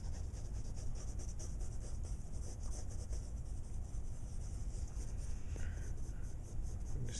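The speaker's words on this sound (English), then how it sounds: "I'm just kind of scribbling on some details" Pen scribbling details onto a drawing on paper: continuous scratchy strokes with quick back-and-forth rhythm, close and steady with a faint background hiss.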